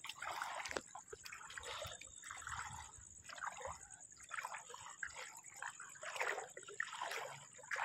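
Shallow river water trickles and dribbles steadily close by, a continuous wet babble with small splashes and a faint high steady tone running through it.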